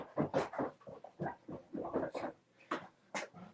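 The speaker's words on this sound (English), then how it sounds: "Gosh darn dogs." Dogs whimpering and whining in short, high, uneven bursts, a string of about a dozen small cries close by and fairly quiet, with no talking.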